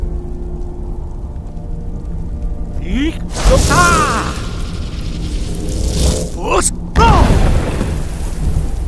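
A Skyrim Unrelenting Force dragon shout fired at targets, several deep booming blasts with a rushing, roaring wash that surges and fades, loud and close.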